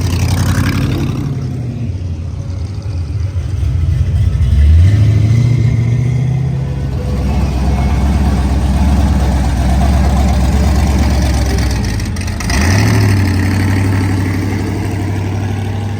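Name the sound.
car engine revving, probably turbocharged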